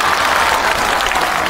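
Dense, steady applause from a theatre audience at a Tianjin TV crosstalk show, where a young Deyun Society performer is on stage, rushing continuously through the brief moment with no pauses.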